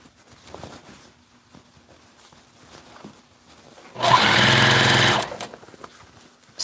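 A sewing machine stitches fabric in a room with one loud, steady burst of close whirring that lasts just over a second, set between quiet stretches of faint tapping and handling noise.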